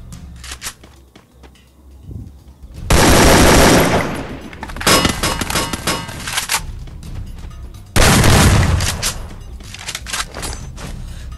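Shotgun blasts in the battle royale game Free Fire: loud, dense bursts of gunfire come in two heavy waves, with lighter scattered shots and clatter between them.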